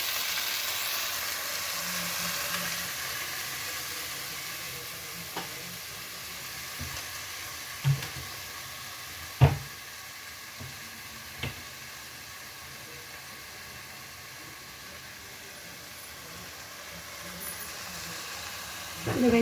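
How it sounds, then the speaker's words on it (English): Vegetables for a baked veggie casserole sizzle steadily in a pan, a soft continuous hiss with occasional sharp clicks and utensil taps scattered through the long stretch. "The vegetables are sizzling and cooking very well."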